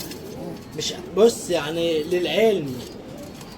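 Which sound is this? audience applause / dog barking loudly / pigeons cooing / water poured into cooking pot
pigeons cooing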